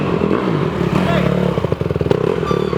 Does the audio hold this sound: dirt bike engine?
yes